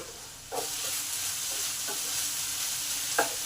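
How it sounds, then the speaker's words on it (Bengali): Ground spice paste is stir-fried with potatoes in a pan for a small-fish curry, making a continuous close sizzle broken by a few light scraping strokes of the spatula. "এই মশলাটাকে আলুর সাথে ভালো করে কষে নেবো"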